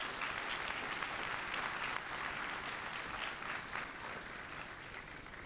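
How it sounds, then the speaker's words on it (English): Audience applause at a medical college convocation ceremony, a steady wash of many hands clapping throughout, moderately distant and sustained without a break. "Can you give her another round of applause,"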